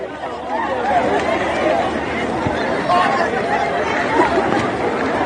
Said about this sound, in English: Oh boy, see crowd.